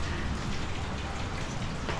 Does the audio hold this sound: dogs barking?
no